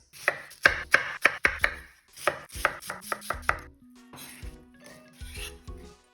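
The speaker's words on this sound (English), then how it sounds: "then you cut like this, and then you have these medium-sized dices" A knife chops food into medium-sized dice on a cutting board for Japanese menchi katsu: quick runs of crisp, close thuds in two bursts, then quieter scraping and a faint hum.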